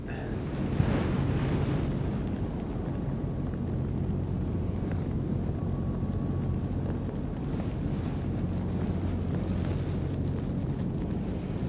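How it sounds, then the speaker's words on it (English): Ocean waves roll against a harbour wall at Aberdeen Harbour on a rainy day, producing a continuous low rumbling wash mixed with gusty wind noise throughout. "The waves coming in here."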